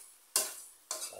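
Squid simmering in coconut milk is stirred in a pot, two quick scraping strokes of a utensil against the pot, close and clear over a quiet bubbling background.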